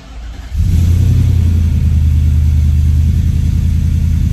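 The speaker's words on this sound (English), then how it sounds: "This will be like a cold start with pacemaker headers full system." A Nissan Patrol Y62 with Pacemaker headers and a full exhaust system cold-starts: a brief crank, then the engine catches and settles into a loud, deep, rumbling idle that holds steady, close by.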